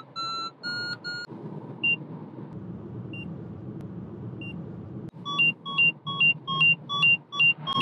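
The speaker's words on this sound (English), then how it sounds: "Why is it beeping?" Electronic beeping from a Naviter HYPER flight instrument: a few tones early, sparse single beeps amid steady wind noise, then a rapid run of repeated rising beeps near the end.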